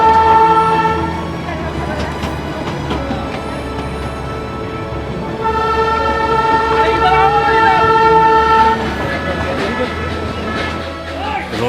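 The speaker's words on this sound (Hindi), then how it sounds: "ये टॉय ट्रेन पूरे दार्जिलिंग की गलियों से निकलती है" The Darjeeling toy train moves through busy market streets, its horn blaring in long sustained tones over the low rumble of the train and surrounding street noise, loud and close.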